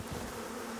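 Bees in the survival game Icarus give off a faint, steady buzzing drone, distant and quiet, lasting under a second with no talk.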